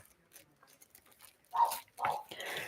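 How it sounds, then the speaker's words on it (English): A pet dog barks a few times in quick bursts after a quiet stretch, fairly close and loud against a faint background. "she's already over it because she's back to barking"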